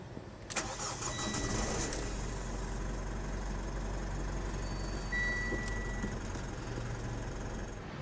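A 2018 Mitsubishi Montero Sport 2.4 GLX 4x2 with a manual gearbox cranks briefly and fires up near half a second in, then settles into a steady, close diesel idle that runs evenly to the end.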